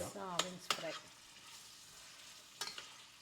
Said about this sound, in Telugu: ఇది చికెన్ ఫ్రైకి నూనెలో ఉల్లిగడ్డ ఓన్లీ వింగ్స్ ఫ్రై